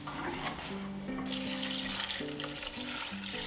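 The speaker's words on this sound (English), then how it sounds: "We're going to go ahead and add in some of our dechlorinated water" Dechlorinated water is poured into a container of cabbage for homemade kimchi, a steady splashing trickle with low tonal hum underneath, close and continuous without talking.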